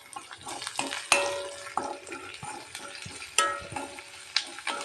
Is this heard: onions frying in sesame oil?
yes